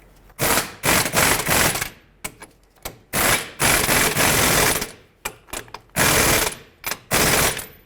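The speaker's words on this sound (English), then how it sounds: "I'm just going to tighten these mounting nuts up." Power tool, likely an impact wrench, tightening the mounting nuts on the front knuckle of a 2010-2017 Chevrolet Equinox: a series of loud, close, rattling bursts of varying length separated by short pauses, with no talk.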